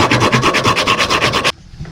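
Rapid rhythmic rubbing of sandpaper against a wooden musky crankbait lure body, loud and close, about a dozen even back-and-forth strokes before stopping abruptly.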